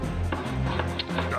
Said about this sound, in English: Start chopping a tree.